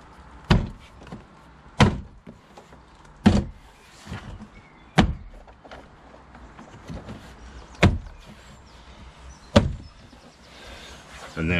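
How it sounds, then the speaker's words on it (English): Plastic trim clips on a BMW 1 Series E8x door card snapping into the door frame, seven sharp separate knocks spaced a second or two apart, close and loud over low background handling noise. "all the clips on the door panel will pop into the door"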